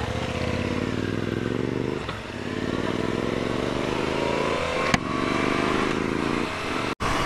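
Suzuki V-Strom 650 XT motorcycle riding on open road near White Mountains National Park, Queensland: a steady, loud engine drone with shifting harmonic pitch and rushing wind throughout, one brief sharp click near the end.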